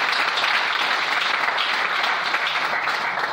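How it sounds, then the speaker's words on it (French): A church congregation claps together in sustained, dense applause, a steady wash of many hands heard close with no talk over it. "Est-ce qu'on peut acclamer le Seigneur?"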